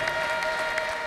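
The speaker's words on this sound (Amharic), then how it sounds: "ክብር በጨብጨባ ለእግዚአብሔር ለአምላካችን ስጡ" A church congregation claps together in sustained, even applause, a steady wash of many hands with no voices standing out.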